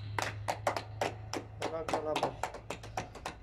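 A small group claps in irregular, steady bursts during a 2020 Armenian live-streamed concert, with a voice speaking over part of the applause.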